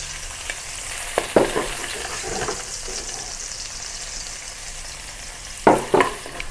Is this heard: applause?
no